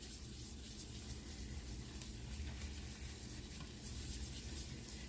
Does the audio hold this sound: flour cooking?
yes